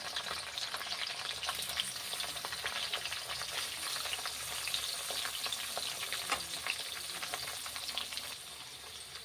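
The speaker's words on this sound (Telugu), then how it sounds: "ఇది కూడా ఇందులో వేసి ఫ్రై చేసుకున్నాం" A large sliced onion frying in oil in a pan for ridge gourd curry, an even crackling sizzle throughout that eases slightly at the end.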